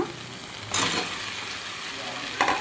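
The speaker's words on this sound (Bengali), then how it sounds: "এখন আমি এই অবস্থায় ভাজা কচুগুলোকে ঢেলে দেব," Already-fried taro hits a hot pan of ground spices and sizzles loudly, with two sharp bursts of hissing as it is stirred, between a constant softer fry.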